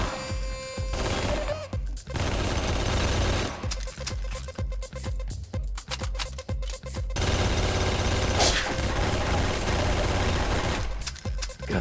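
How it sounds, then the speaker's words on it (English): In the Garry's Mod video game, a dual machine gun fires loud, rapid bursts of clattering gunfire in several long volleys separated by brief pauses, close and harsh, with mechanical rattles between bursts. "I may have to resort to more drastic measures, like the dual machine gun. Oh my god, the recoil on this thing."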